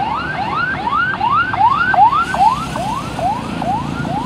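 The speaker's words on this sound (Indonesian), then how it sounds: "Ambulan, teman-teman." Ambulance siren passing on a road among trucks, a loud rising and falling wail repeating about every half second, close and strong, then easing slightly as it moves off, with traffic rumble beneath and no talking.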